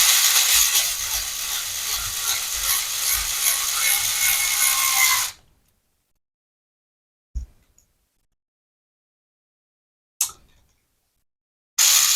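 A hand ratchet clicks rapidly and continuously for about five seconds while a differential bolt on a BXR is tightened by hand, followed by silence broken by a few isolated metallic knocks.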